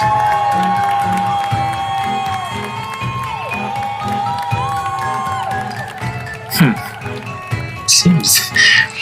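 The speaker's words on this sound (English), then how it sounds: "And the crowd loses their minds" A large outdoor crowd on a grassy area erupts in cheers and shouts after a heavy stone is hurled down with a crash, the roar loud and sustained with whoops rising and overlapping voices throughout.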